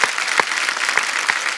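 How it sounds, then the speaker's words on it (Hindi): Loud, dense applause from a TV comedy show studio audience, a continuous clatter of many hands with a few sharper claps standing out, steady for the whole stretch. "जोरदार तालियां बनती हैं"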